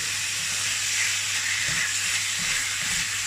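Beef pieces cooking in a hot pan for bœuf lôc lac hiss in a loud, dense, unbroken sizzle, close and steady throughout with no voices.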